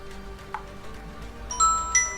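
A mobile phone's message notification chime sounds twice in quick succession near the end, bright and ringing over a quiet room, after a faint earlier click.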